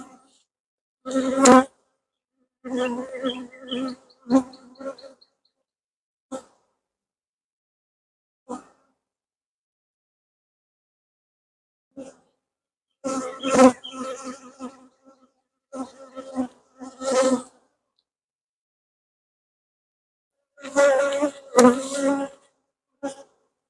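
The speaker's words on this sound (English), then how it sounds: "First bees flew up at me a little bit, but not too much." Honey bees buzz around an open hive during an inspection, in intermittent bursts of close, loud humming separated by quiet gaps, the strongest flurries near the start, middle and end.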